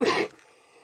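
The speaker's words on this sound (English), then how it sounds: "I still got that bronchial cough." One short, close bronchial cough, fading quickly into quiet room tone.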